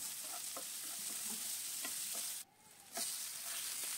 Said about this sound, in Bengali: এবার এটা এত ভালো করে ভাজতে হবে যাতে সুন্দর গন্ধ বেরোবে